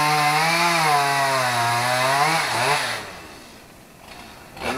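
A chainsaw runs loud and close outdoors, its engine pitch rising and falling steadily as it cuts into wood, then it drops away near the end with no talk over it.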